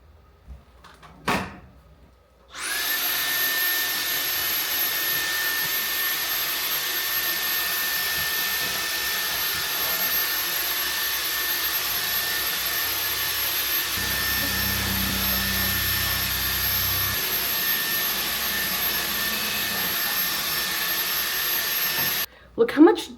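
A household vacuum cleaner switches on after a few quiet knocks and runs with a steady, loud whine for about twenty seconds during spring cleaning, then cuts off with some clatter at the end.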